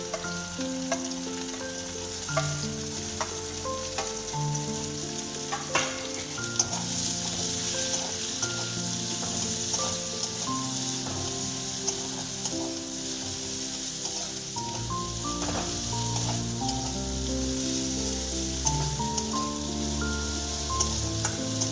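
Chopped onion and garlic frying in a pan, a steady sizzle running throughout with occasional stirring, while music plays underneath.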